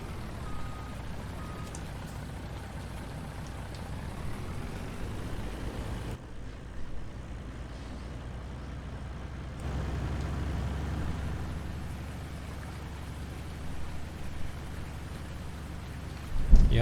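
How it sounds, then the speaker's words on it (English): A logging truck engine in Farming Simulator 19 runs steadily at a moderate level, a low drone with faint reversing beeps and a rain-like wash over it. The sound drops out briefly midway, and a few knocks come near the end. "this truck is reasonably loud. It's not, obnoxiously loud like the others"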